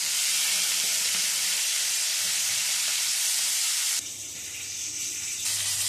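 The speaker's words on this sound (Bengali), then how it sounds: "এবারে এই তেলের মধ্যে দিয়ে দিচ্ছি ইলিশ মাছের মাথাগুলো।" Hilsa fish heads sizzle in hot mustard oil, a loud continuous frying hiss that dips slightly near the end as the pieces settle, with no voices.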